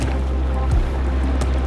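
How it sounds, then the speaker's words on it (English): Cold wind gusting across an open reservoir during a pike fishing session, a steady close roar buffeting the microphone with low rumbling and a brief swell partway through. "there's a really mean cold wind got up, which is making life a little uncomfortable"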